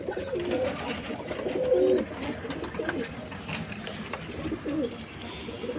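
Black Jack pigeons nesting on eggs give soft, close, repeated throaty coos, with faint other birds and a quiet voice in the background.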